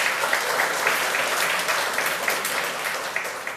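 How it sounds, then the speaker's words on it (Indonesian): Audience at a religious debate on Christianity and Islam breaks into applause, a dense, even wash of many hands clapping that holds steady for a few seconds. "Mulai dari sekarang kita tepuk tangan dulu dari Islam."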